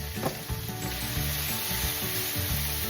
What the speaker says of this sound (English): We're just browning it up a little bit.